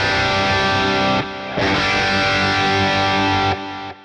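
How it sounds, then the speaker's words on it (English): A distorted electric guitar plays through the tape echo delay of a Boss Katana MkII amp. Loud chords ring on with smeared, degrading repeats. There are brief drops between strums and no talking. "Got tape echo."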